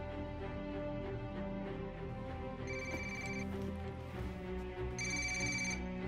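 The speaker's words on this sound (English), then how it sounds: "You're going to want to answer your phone" A phone rings twice in Tom Clancy's Ghost Recon Wildlands, bright electronic trills in two short bursts over a low droning game soundtrack.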